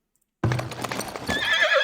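After a short silence a horse in the video game Farthest Frontier gives a loud, close whinny that rises into a high, wavering neigh, with a few hoof clops under the start.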